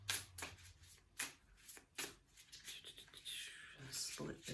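A deck of Knitter's Oracle cards is shuffled up close with soft, irregular riffling and sliding swishes in short bursts, quiet and intimate, with faint speech mixed in.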